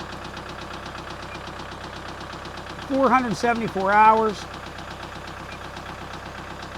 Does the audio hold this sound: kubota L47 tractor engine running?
yes